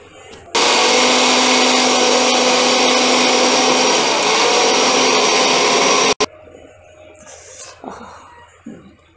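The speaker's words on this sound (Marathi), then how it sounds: "तर मी मिक्सरला फिरून घेते एकदा." Mixer grinder whirring loudly and steadily for about six seconds as it blends mixed fruit juice of mosambi, chikoo, orange, guava and banana with cardamom powder, then cutting off abruptly into quiet kitchen handling noises.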